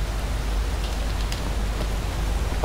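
Steady, even rain hiss in the game The Elder Scrolls V: Skyrim fills the whole stretch, dense and fairly loud, with a few faint drop-like ticks scattered through it.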